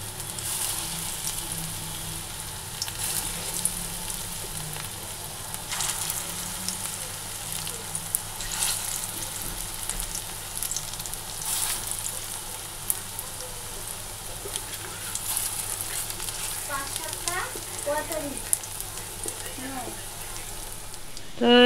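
Fritters (bora) frying in oil in a wok, a continuous crackling sizzle throughout with scattered pops, and a voice speaking briefly near the end.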